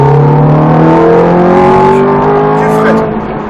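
A Ferrari F430 accelerates hard on a driving course, its engine note rising steadily in a loud, close, sustained pull over about three seconds before easing slightly at the end.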